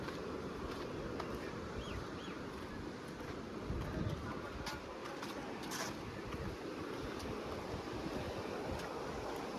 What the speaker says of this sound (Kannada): ಎಷ್ಟು ಚಂದ ಹರಿಯಾತೈತೆ ನೋಡಿ ನೀರು.